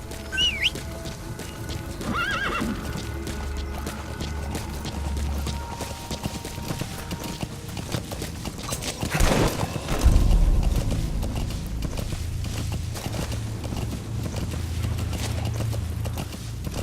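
Rhythmic hoofbeats clip-clop steadily with a horse whinny near the start, over a continuous ambient backdrop in Metal Gear Solid V: The Phantom Pain.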